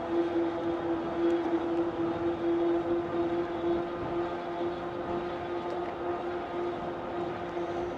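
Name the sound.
tire noise of Van Powers GrandTeton e-bike riding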